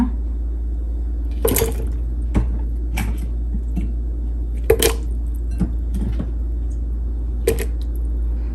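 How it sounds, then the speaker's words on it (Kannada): Drumstick pieces are dropped into a small pot of water on a stove, making a few scattered knocks and clinks over a low, steady hum, with no talking. "ಸ್ಟವ್ ಮೇಲೆ ಒಂದು ಚಿಕ್ಕ ಪಾತ್ರೆಯಲ್ಲಿ ಒಂದು ಸ್ವಲ್ಪ ನೀರು ಹಾಕಿಟ್ಟಿದ್ದೀನಿ. ಅದಕ್ಕೆ ಈಗ ನುಗ್ಗೆಕಾಯಿನ ಹಾಕೋಣ."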